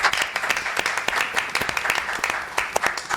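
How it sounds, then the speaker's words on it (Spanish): Studio audience applause greeting a guest on an Argentine entrepreneurs program, dense steady clapping close by that runs the whole few seconds with no voices over it. "le damos un muy fuerte aplauso que está acá en Emprendedores Argentinos al señor Bruno Calcano."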